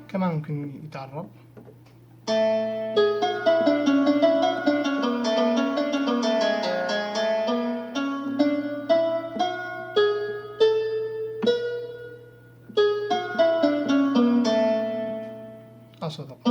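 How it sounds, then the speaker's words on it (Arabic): A qanun voice played on an LP6110E oriental keyboard, heard as phrases of bright plucked, decaying notes with short gaps between runs, moderately loud, and a steady low hum underneath. "هذا صوت القانون. ممكن طبعا تمزجه مع الناي مثلا يطلع صوت حلو."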